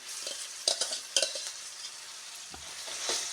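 Mashed jackfruit stirred and fried in a pan gives soft sizzling with scattered spoon scrapes and stirring clatter, close and fairly quiet, with no talking.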